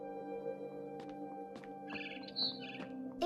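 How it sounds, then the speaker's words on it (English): Barn swallow chirps inside the game What Remains of Edith Finch, several short bright twittering bursts near the middle and end of the clip over a steady low musical drone. "It was a barn swallow going back to her nest."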